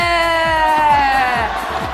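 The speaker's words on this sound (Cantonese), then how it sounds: "我要大家歡呼就歡呼，聽住。" A crowd at a 2006 World Cup carnival in Hong Kong lets out a sustained, loud whooping cheer, with voices rising and falling together and no break in the noise.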